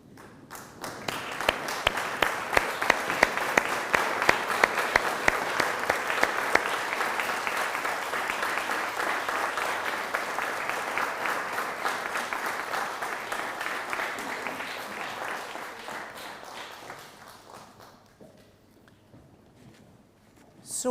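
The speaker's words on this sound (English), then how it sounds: "I'm going to ask you to join with me, standing up and turning round and giving them a round of applause" A large standing audience at a Royal College diploma ceremony gives a long, dense round of applause that swells quickly, holds steady for about fifteen seconds, then thins out and fades to a few last claps.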